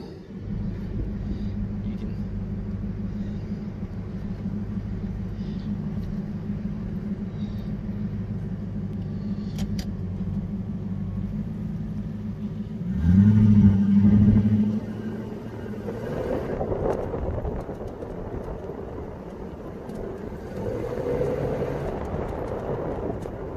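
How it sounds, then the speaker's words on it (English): Lexus LS400 with sea foam treatment running on a test drive, a low steady engine rumble with a louder surge midway and road noise from inside the car, as someone speaks over it. "We're about to take it for a test drive and burn all that sea foam out the motor."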